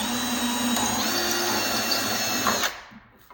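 Power drill boring through a cabinet door for handle holes, a loud steady whine that runs for most of the moment before spinning down and stopping abruptly.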